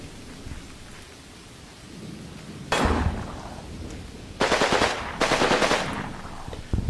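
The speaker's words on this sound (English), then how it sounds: "sections putting rounds through the bocage they're using as cover and from behind the stug into the enemy positions" Gunfire from troops in a war video game set among bocage hedgerows beside a StuG assault gun: a few separate bursts of rapid fire crackle over a low ambient rumble.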